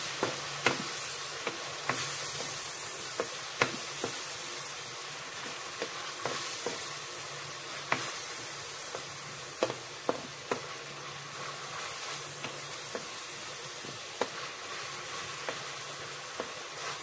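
Pancit canton noodles with vegetables stir-frying in oyster sauce, a steady close sizzle with repeated sharp clinks and scrapes of a utensil against the pan, no talking.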